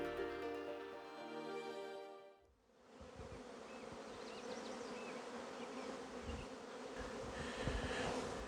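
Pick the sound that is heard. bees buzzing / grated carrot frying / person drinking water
bees buzzing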